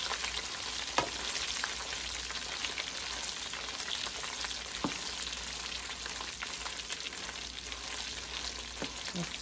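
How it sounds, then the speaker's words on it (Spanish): Salsa ingredients fry and toast in hot oil with a dense, close crackling sizzle. Occasional stirring taps break through the steady frying. "Que se fría así. Para que todo se tueste en el aceite."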